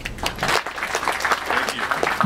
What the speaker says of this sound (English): may I have a round of applause for Mike?